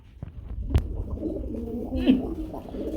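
Indian Babra pigeons at a pigeon sale coo in low, rounded pulses, one longer coo standing out near the end, amid background murmur and a sharp knock early on.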